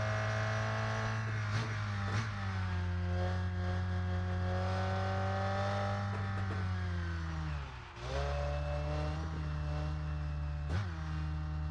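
Race car engine in the video game Rennsport, loud and close, holding a steady high rev and then upshifting with sharp drops and recoveries in pitch, one clear gear change near the end.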